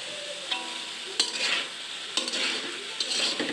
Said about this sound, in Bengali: গরম মশলাটা দেওয়ার পর এখানে দিয়ে দিব সবজিগুলো